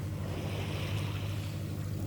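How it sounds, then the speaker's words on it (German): Sailboat motoring under engine at sea on a windless day along the Riviera, a steady low engine drone with water rushing past the hull, fairly quiet and unbroken. "Wir motoren gerade, weil es keinen Wind hat."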